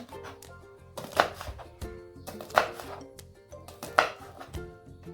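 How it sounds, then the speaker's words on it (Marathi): A knife chops green chillies into medium pieces on a board for a spicy homemade lemon pickle, giving sharp, close thuds in an irregular rhythm with a few louder strikes and no talking. "आपण आता ह्याचे बारीक बारीक तुकडे करणार आहोत"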